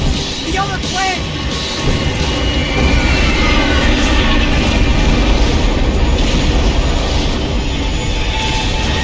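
Airplane engines roar loud and steady throughout in a Max Payne 3 action scene, a dense, unbroken drone, with shouted voices briefly heard near the start.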